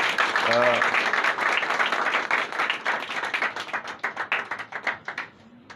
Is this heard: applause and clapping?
yes